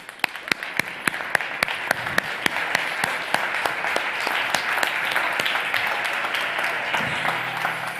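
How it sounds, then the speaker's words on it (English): Steady applause from a conference audience greets a telecom chairman and CEO walking onto a summit arena stage, with sharp individual claps standing out over a dense wash of clapping that carries on throughout. "for a huge round of applause, please"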